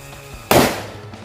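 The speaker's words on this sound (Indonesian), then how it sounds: "ini kita nyalain mercon Happy Flower yang warna ungu" A single sharp bang from a purple Happy Flower disco firecracker, loud and sudden, followed by a short fading crackle.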